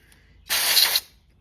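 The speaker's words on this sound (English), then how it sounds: "now you can basically spray wherever on your carb" Carburetor cleaner sprayed onto the carb of a 110cc dirt bike: a single steady aerosol hiss lasting about half a second, close and fairly loud, with no talking.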